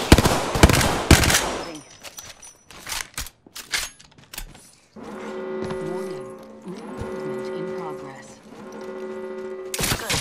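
Rapid bursts of automatic gunfire from a shooter video game crackle loudly in the opening seconds, followed by scattered single shots and then a steadier tonal stretch of game sound.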